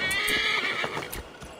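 A horse in the video game Assassin's Creed Valhalla gives a loud, close whinny with a rising, quavering neigh, followed by a few hoof clops, with no talking.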